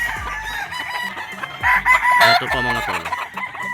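Gamefowl rooster called Golden Boy crowing on a gamefowl farm, a loud, near cock-a-doodle-doo rising in the middle of the clip, with other birds clucking and someone speaking over it.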